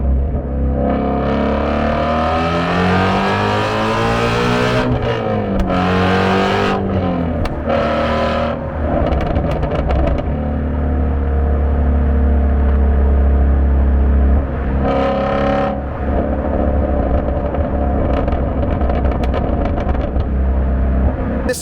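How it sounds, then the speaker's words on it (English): Shelby GT350 engine running under way, a loud harmonic drone that climbs and falls with the revs, close and continuous over about twenty seconds with no talk. "This car is meant to be revved out."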